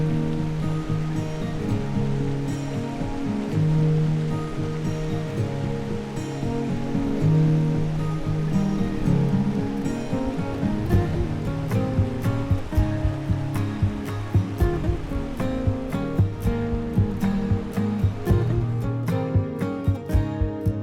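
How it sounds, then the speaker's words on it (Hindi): Clear glacier-fed river in Ladakh rushing and splashing over rocks, a steady loud roar throughout with sharper splashes and clicks growing more frequent toward the end, no talk. "नदी का पानी देखिए कितना साफ है, ग्लेशियर वाटर है ना"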